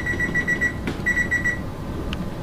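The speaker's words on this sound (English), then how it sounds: "And then put a timer on there for about 20 minutes." A kitchen oven timer beeps in quick repeated bursts of short, bright electronic tones, up close and clear over a steady background hum, with a brief pause in the middle.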